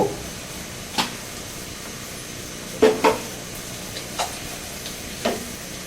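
Onions frying in a pan for beef rezala, a soft steady sizzle close by, broken by several occasional scraping stirs of a spatula.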